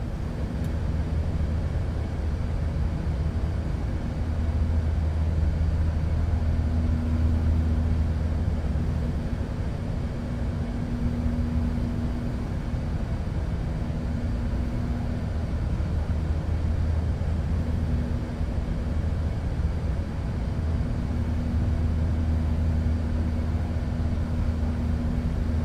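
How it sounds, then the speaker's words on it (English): Airbus A380 jet engines on a mid-haul flight from Kuwait to Mumbai throttle down during descent, heard from the cabin as a steady, loud low roar with droning tonal hum and no talk. "See if we can hear these engines throttling down."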